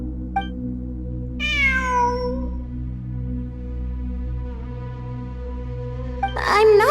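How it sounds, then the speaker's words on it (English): A cat meows repeatedly inside the Genshin Impact game world: a long, drawn-out descending meow, then a softer one, and a final burst near the end, all over a steady low hum and game ambience. "It really is a cat."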